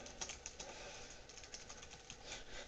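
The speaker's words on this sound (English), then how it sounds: "Excuse my typing" Quiet, steady keyboard typing with a soft clatter of keystrokes, uneven in rhythm and close by, with no one speaking.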